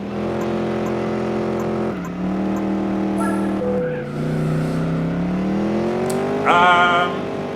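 A car on worn tires spins out in Gran Turismo 4, its engine droning and shifting pitch through several revs while the tires squeal loudly in a rising screech near the end.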